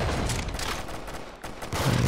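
Firework launcher in the Roblox shooter Arsenal fires as a burst of crackling, popping blasts in quick succession, loud and close, tapering off before a brief low tone near the end.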